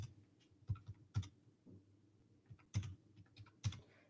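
Keys pressed on a graphing calculator while entering statistics data, a handful of sharp, close plastic clicks coming in irregular bursts with short pauses in between, no voices.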